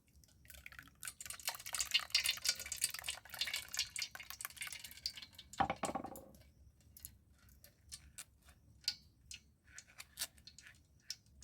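Mango yogurt sharbat strained through a sieve gives a soft, continuous trickle at first, then a brief splash, followed by scattered faint drips ticking at irregular intervals in a quiet room.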